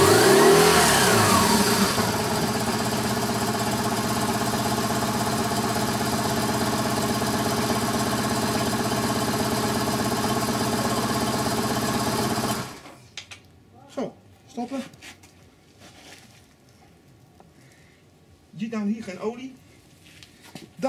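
Boxer engine of a BMW R850R motorcycle running after an oil change, a steady loud mechanical drone with a fast ticking rhythm, which cuts off about two-thirds through, leaving a quiet pause and someone talking.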